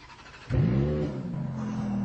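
A Ferrari F430 with its 4.3-litre V8 bursts into a deep rev, then settles into a steady, throaty low rumble at idle. The engine is close and loud, with no voices.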